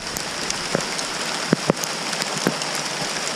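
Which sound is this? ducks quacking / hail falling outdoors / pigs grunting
hail falling outdoors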